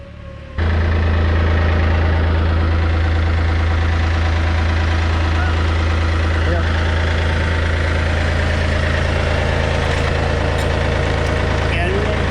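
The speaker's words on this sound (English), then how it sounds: "got the tractor coming around." A heavy diesel tractor engine idles steadily and loudly throughout, a deep constant rumble with faint voices and clanks underneath.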